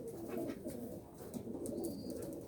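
Racing pigeons cooing close by, soft low throaty coos rolling together in a continuous murmur, with a few faint higher chirps and rustles over the top.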